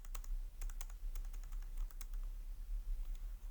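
Steady typing on a computer keyboard with an enter key pressed, close clicky keystrokes in an uneven stream over a constant low hum, no voices.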